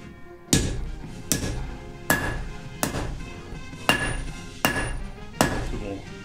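At a forge, a hammer strikes metal held in tongs with eight evenly spaced ringing blows, each a sharp loud clang with a metallic ring that decays quickly, heard up close.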